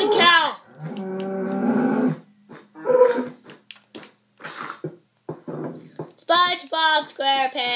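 Cow in the video game Minecraft gives a long, loud, droning moo followed by shorter lowing calls close up, with excited voices talking near the start and end.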